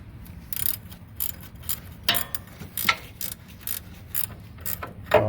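A ratchet wrench snugs a bolt on a Toyota 4Runner ICON delta joint in a series of quick, close clicking bursts, with short pauses between strokes and no talking.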